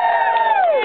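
A single voice imitates a cheering crowd with one short, loud whoop that holds and then slides downward, lasting under a second, close and alone.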